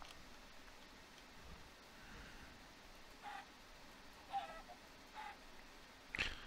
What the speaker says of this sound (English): we'll scrape these chickens out here for the next 4